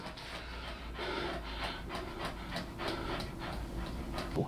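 A dog pants steadily in rapid, rhythmic breaths, close and fairly loud, with no talking over it.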